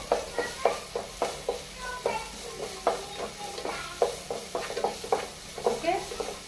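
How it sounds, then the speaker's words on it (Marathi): Chopped onion frying in hot oil for a Goan mixed vegetable curry, a soft sizzle under repeated scraping and tapping as it is stirred in the pan, close and steady, with a voice faintly in the background. "हांगा बरो फ्राय करून घेवपाचो तेलान"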